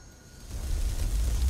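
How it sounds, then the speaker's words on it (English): A double-cast Fireball spell in Skyrim erupts into a deep explosion, starting quiet, then swelling into a heavy low rumble that holds loud through to the end. "A little bit bigger explosion."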